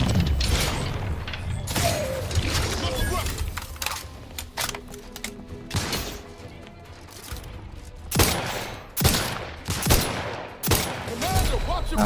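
Gunfire in the video game The Outer Worlds 2 on the hardest difficulty, rapid clattering volleys and sharp individual shots that come in irregular bursts, loud and close, with mechanical clicks and brief speech mixed in.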